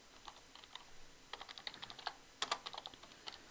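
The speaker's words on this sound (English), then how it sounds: "we want to type in running head" Close, fairly quiet typing on a computer keyboard in short irregular bursts of clicks, entering a running head in a Microsoft Word document, with no talking.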